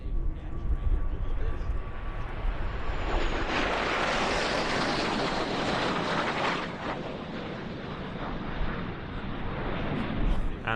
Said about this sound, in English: three L-39s are trailed by the aircraft they replaced, the L-29 Delfin